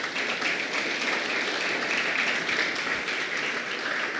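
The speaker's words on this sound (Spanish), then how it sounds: "Denle un fuerte aplauso al Señor en esta mañana." Church congregation giving a strong round of applause on a Sunday morning, continuous dense clapping from many people at a steady level throughout, with no voices standing out.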